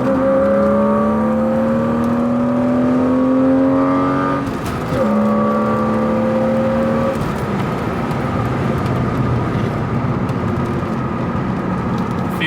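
BMW E36 M3 launching hard and accelerating, its engine note climbing loudly through the revs, dropping at a gear change, then pulling again, heard from close by with no talk.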